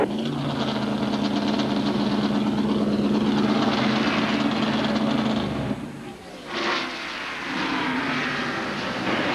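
Roaring engines of ARCA stock cars sweep past close by at high speed at Talladega Superspeedway, the loud drone cutting off abruptly before a quieter engine hum returns.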